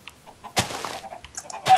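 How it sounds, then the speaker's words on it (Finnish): Chickens in the video game Minecraft cluck in short, soft bursts, a few separate calls spread across the moment with quiet gaps between them and no talk. "Helvetisti kanoja."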